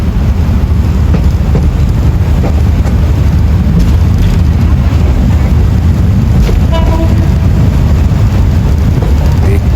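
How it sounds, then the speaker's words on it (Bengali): A Bangladeshi passenger train travelling from Cox's Bazar to Dhaka, heard from inside as a loud, steady rumble and rattle of wheels on rails, continuous throughout with faint clanks. "ট্রেন আবার তার নিজস্ব গতিতে ছুটে চলা শুরু করলো"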